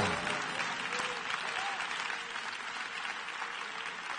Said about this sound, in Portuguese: Caso você ache que o Senhor seja digno, pode aplaudi-lo com alegria